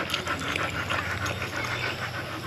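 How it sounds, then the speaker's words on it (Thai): A dog pants steadily and rapidly, close by, a continuous breathy rhythm with no speech over it. "โอ้ย หมาก็มานั่งยืน"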